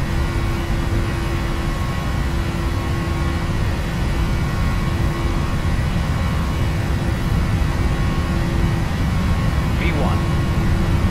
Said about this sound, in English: Takeoff power set, airspeed is live.